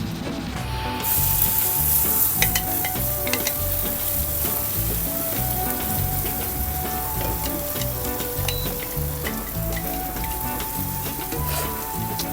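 Blended green chilli paste sizzles and fries in hot ghee for Hubballi-Dharwad style ghee poha, a loud, steady crackle up close with occasional stirring scrapes and no talking.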